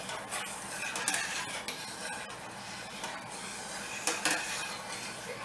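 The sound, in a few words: stirring macaroni in boiling pot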